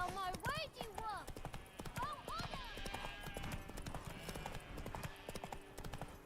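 Hooves of Roach, a horse in a video game, clip-clop in a steady rhythm throughout, with snorts or whinnies and someone talking over them.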